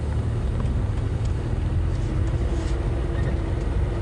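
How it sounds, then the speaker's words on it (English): Safari vehicle engine running steadily in the bush, a constant low rumble that stays even throughout, close by with no talking. "I can't hear with the engine running"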